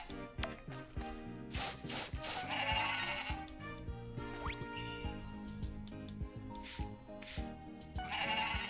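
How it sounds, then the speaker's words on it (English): A billy goat in the farming video game Pioneers of Olive Town gives repeated nasal bleats over light background music with small jingling tones, fairly faint overall. "Let's pop in and see our animals. There's a billy goat."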